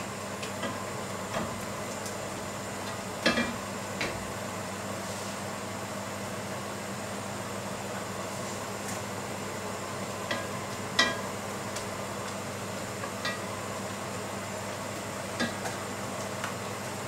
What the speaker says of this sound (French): maintenant on va mettre notre poêle avec de l'huile d'olive pour les courgettes